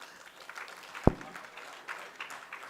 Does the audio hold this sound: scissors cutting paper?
no